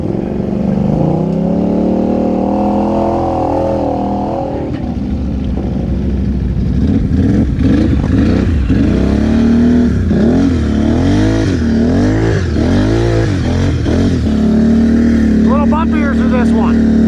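Cammed Polaris Renegade XMR 1000R snowmobile engine revving hard and loud up close, with repeated rising and falling throttle sweeps, while a voice talks over it throughout.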